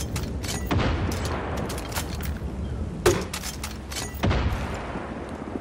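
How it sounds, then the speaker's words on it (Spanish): Grenade launcher rounds explode far off in Far Cry 5, a series of dull booms and sharp cracks spread across a few seconds over a busy, noisy game backdrop. "No se ve casi la explosión tan lejos."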